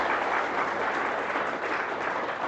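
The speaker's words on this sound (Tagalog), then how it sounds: "Palakpakan niyo yung privilege natin. Yung malakas na." Congregation at a church service clapping loudly and continuously, a dense, even wash of applause with no talking over it.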